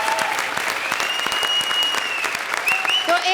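A studio audience on a comedy show applauds, steady dense clapping filling the whole stretch, loud and close with a faint tonal ring through it.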